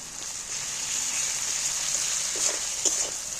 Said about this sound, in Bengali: এইবার আমি রসুন বাটাটা দিয়ে দিচ্ছি।